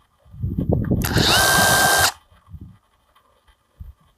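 A Procraft PKA44 cordless mini chainsaw motor whirs up briefly with a smooth soft start, a loud close electric whine lasting about a second, preceded and followed by handling knocks and a quiet voice.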